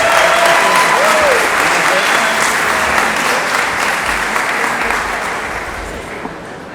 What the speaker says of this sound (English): round of applause for our winners this year